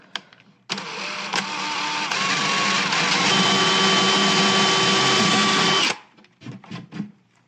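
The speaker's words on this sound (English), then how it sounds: "So instead you need to get a drill out first, drill a hole with the bit" A power drill bores a hole through wood with the bit for a jigsaw start hole, one steady loud whirring run of about five seconds with a pitch shift partway, then stopping.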